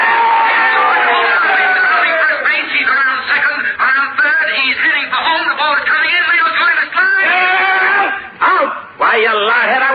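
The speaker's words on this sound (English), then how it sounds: "The crowd is going crazy." A baseball crowd cheers in a radio comedy sound effect, a dense, continuous roar of shouting voices with whoops and wails, rising and dipping briefly before swelling again.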